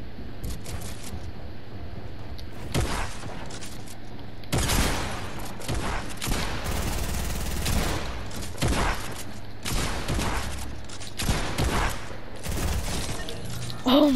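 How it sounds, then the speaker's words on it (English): SMG gunfire in the Fortnite battle royale video game, repeated rapid bursts of sharp shots in several clusters, loud and close, with short gaps between volleys and no talk over them. "The SMG came in clutch, bro."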